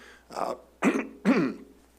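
A person at a school board meeting coughs and clears their throat three times in quick succession, close and fairly loud, with short pauses in between.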